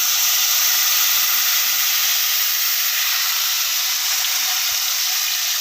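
Steady, loud sizzling hiss of tamarind water hitting hot oil while cooking puliyodarai, a continuous bright crackle with no voices.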